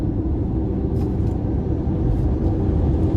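A 2023 Ford Mustang Mach-E AWD electric car accelerates hard, heard from inside as a steady loud low rumble of road and tire noise that barely changes, with no voices.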